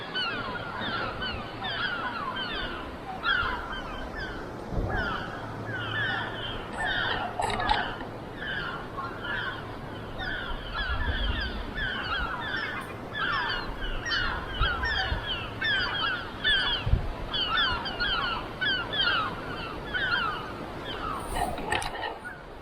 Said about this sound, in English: Even seagulls nesting under.